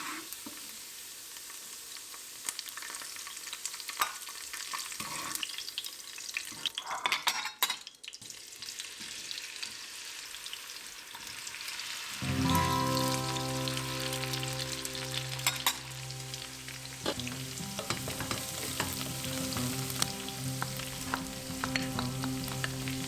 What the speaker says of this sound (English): The onions got some caramelized color